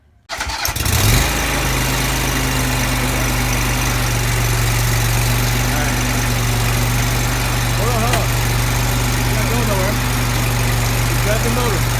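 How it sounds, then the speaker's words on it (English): An Exmark Lazer Z riding lawn mower engine cranks and catches about a second in, then runs at a loud, steady idle close by, with a constant drone throughout. "So let's start the mower up"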